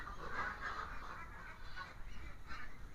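Ducks on a duck farm give faint, distant nasal honking calls in a few short bursts over a quiet background hum.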